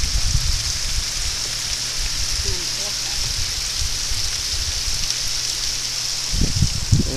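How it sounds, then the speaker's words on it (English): A roadside waterfall beside a dirt road along Big Piney Creek gives a steady, close rushing hiss of falling water, with a few low thumps and handling bumps near the end. "Waterfall."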